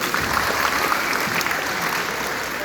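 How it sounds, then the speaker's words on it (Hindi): Audience applause follows a line of a patriotic Hindi poem recitation, a dense, steady wash of many hands clapping that stays fairly loud and even throughout, with no talking over it. "अगर अच्छी कोई लाइन लगी तो तालियां बजाते रहोगे।"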